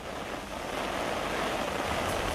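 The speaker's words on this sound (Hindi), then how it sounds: "पानी की धारा इतनी तेज़ है कि कहीं कहीं ये पहचानने में मुश्किल हो रही है कि ये नदी है या फिर सड़क पर बहता पानी।" Fast-flowing floodwater rushing through city streets in Jammu during heavy rain, a steady, loud, broadband roar of churning water with no pauses and no voices.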